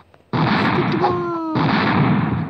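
A sticky bomb goes off in the game Mini Militia Doodle Army 2: after a brief quiet, a loud, sustained blast of explosive noise fills the rest of the sound, with a short dip midway before surging again.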